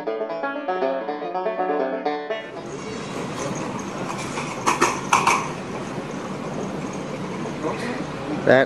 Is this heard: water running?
no